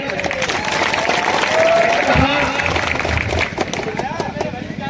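Crowd applause at a political rally, a broad sustained wash of clapping from a large outdoor audience, with a voice over the loudspeakers cutting through and scattered shouts.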